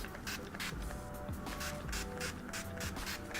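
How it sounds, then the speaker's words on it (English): NYX matte finishing spray mists onto a face in a rapid series of short, close pumps, each a soft airy burst in a regular rhythm. "I'm gonna take my NYX matte finishing spray."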